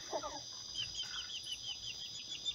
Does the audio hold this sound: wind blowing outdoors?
no